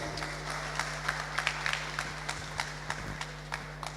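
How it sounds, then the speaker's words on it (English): Scattered applause at a public ideas forum in a market hall, individual claps standing out in an uneven rhythm over a low steady hum, fairly close. "So give Rico a big round of applause, please"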